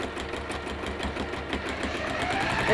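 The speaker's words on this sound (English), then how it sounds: "I'm just top stitching gently around those corners." A straight-stitch-only sewing machine whirs with a steady rapid mechanical patter while top stitching through layered fabric around corners, close and continuous.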